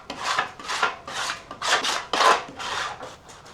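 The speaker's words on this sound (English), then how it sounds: "Okay, time for a little scrapey scrape." A metal scraper rasps across a griddle in about seven rhythmic, close strokes while the cook cleans it before making breakfast, each pass a harsh scraping burst with no talking.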